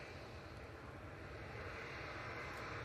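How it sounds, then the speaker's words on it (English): A Turkish Airlines Airbus A321neo on final approach from Istanbul produces a steady, broadband engine roar that stays even and moderately distant throughout, swelling slightly toward the end. "On finals now, we do have a Turkish Airlines A321neo coming in from"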